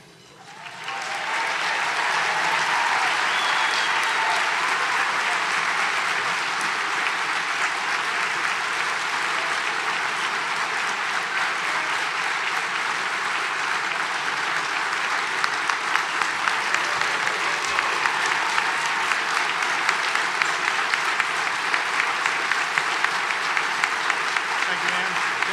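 At an award ceremony, a large audience applauds to welcome a speaker, a loud, sustained wash of clapping that keeps going, with scattered sharper claps near the end.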